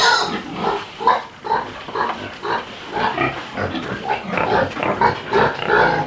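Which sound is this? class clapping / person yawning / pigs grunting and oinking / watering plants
pigs grunting and oinking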